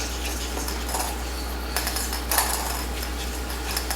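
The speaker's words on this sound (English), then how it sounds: "With my whisk, I'm going to mix this together." A whisk mixing a thick ricotta cookie batter in a bowl, making light metallic clinks and tapping against the bowl over a steady background hum.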